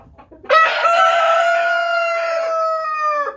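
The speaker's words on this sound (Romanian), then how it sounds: "mi-am selectat acest cocoș, foarte, foarte frumușel." A loud, close rooster crow, one long drawn-out call that holds steady for a few seconds before cutting off in near silence.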